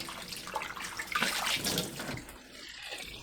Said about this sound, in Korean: 한 번 더 헹궈주세요